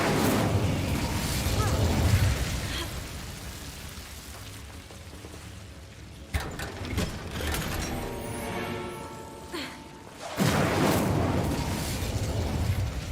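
The Incendio fire spell cast in the video game Hogwarts Legacy, bursts of roaring, crackling flame that swell loudly then cut off, repeated a few times amid game sounds.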